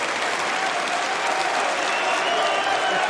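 A snooker crowd applauds at a UK Championship match, a steady dense clapping from many hands that fills the space evenly, with no break.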